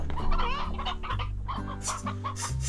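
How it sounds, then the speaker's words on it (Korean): Chickens clucking in the farming video game Slime Rancher: several close, loud clucks and squawks in quick succession over steady game background music. "자 닭들."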